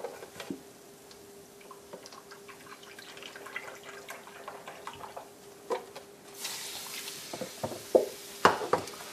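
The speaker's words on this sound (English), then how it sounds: "to this I'm going to add 1 cup of chicken broth" Chicken broth is poured into a pan holding browned meatball drippings, giving a soft splashing pour that builds toward the end, with clicks and small clatters around it and a steady low hum behind.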